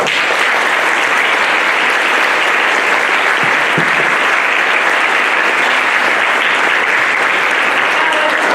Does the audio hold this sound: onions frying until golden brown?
no